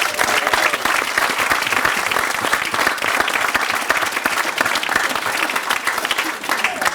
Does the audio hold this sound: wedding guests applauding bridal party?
yes